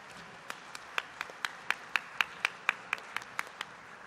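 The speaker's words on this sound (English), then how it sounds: "While we're applauding, we also want to applaud all of you for being here" Sparse, evenly paced hand claps from an audience honoring award recipients at a ceremony, a thin round of applause with individual claps distinct and fairly close.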